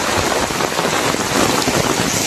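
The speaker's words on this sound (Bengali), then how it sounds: "কি পরিমাণে বৃষ্টি নামতেছে!" A heavy downpour of rain pours down in a village, a loud, dense and continuous hiss of drops striking surfaces, with no break from start to finish.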